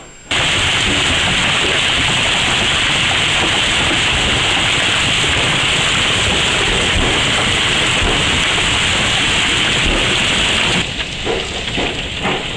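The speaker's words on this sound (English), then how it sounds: "We're shooting this episode in a storm, a hailstorm." A hailstorm with heavy rain pours down outdoors as a loud, dense, steady hiss that holds for nearly the whole stretch before thinning slightly near the end, with no voices.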